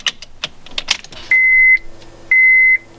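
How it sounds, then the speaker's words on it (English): A car's electronic beeper sounds twice when the key is turned in the ignition of a Honda after a manual transmission swap, each tone steady and about half a second long, following some jingling and clicking of keys nearby. "Fuel pump, annoying beeping sound that I want to get rid of."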